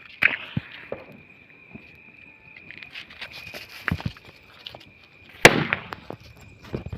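Firecrackers set off outdoors during a Gujarati comedy scene, a few sharp separate pops and cracks, one louder burst near the end, over a steady high whine and faint scuffling background.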